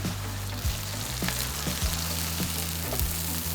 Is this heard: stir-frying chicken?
yes